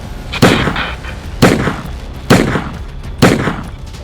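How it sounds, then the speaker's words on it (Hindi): Four sharp, loud gunshots at roughly one-second intervals, each a sudden broadband crack with a short decaying tail, fired during a clash at a roadside gathering, with no talking. "यहां गोली चल गई।"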